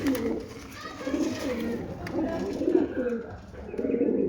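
Several pigeons coo steadily in a loft, their low, throaty calls overlapping in a continuous rolling chorus close by.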